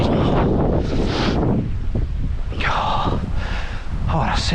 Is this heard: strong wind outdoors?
yes